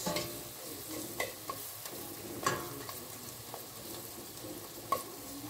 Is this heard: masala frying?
yes